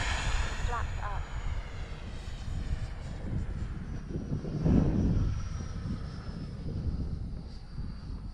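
Small Marlin jet in flight, a steady broad engine roar with rushing air noise, swelling briefly at midpoint and holding constant throughout.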